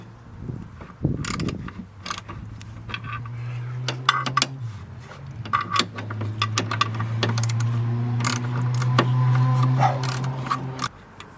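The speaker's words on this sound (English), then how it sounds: "remove two nuts which are at the back of the upper intake manifold." A ratchet wrench loosens the two rear nuts on the upper intake manifold of an LQ1 engine, with repeated close clicking strokes over a low droning hum, along with occasional metallic clinks from tool handling.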